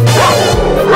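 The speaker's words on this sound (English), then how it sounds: "A dog barked at them and they ran too." Cartoon dog barks in a Halloween kids' song, a short bow-wow yip over a sustained musical backing, loud and close.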